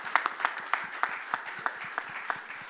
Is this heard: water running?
no